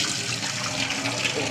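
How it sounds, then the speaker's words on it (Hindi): Potatoes are washed under running water from a tap, a steady close splash and hiss filling the moment, with a voice speaking over it. "आलूओं को अच्छी तरह से वॉश कर लेते हैं"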